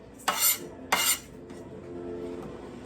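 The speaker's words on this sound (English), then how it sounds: "So now I'm going to cut my tomato." A knife slices through a tomato in two quick strokes, each a short crisp cutting rasp, followed by faint quiet handling on the board; close and fairly soft, with no talking.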